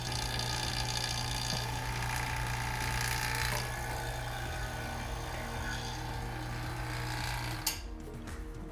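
A Nasan Supa Lite Max vacuum press hums steadily with a low motor drone and a pump-like whir, close and even throughout, before a small click and a sudden drop near the end.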